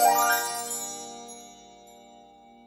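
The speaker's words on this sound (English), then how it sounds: "Waiting for the magical chime." A bright notification chime for incoming comments on a live online show, one sparkling struck tone that rings out and slowly decays over a couple of seconds, heard alone with no talking.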